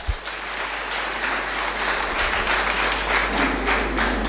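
An audience at a constitution literature conference claps steadily for Kanekar sir, a continuous, fairly loud round of applause that swells slightly toward the end, with a low hum underneath.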